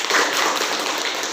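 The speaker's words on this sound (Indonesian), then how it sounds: "tepuk tangan" Children in an Indonesian classroom clap together in a brief, dense burst of quick overlapping claps, close and fairly loud, with no voices over it.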